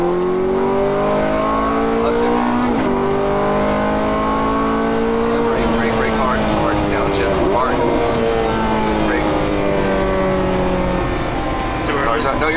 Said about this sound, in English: full throttle, floor it. Keep it floor.